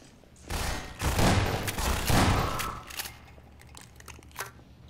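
Gunfire from the Half-Life 2 video game: a rapid burst of several loud shots over about two seconds, followed by a few fainter scattered reports, with no talking.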